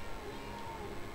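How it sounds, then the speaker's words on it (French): A cat meows inside the video game Murdered: Soul Suspect, a short single call set against a steady low hum of game ambience. "Et t'as vu que tu pouvais miauler?"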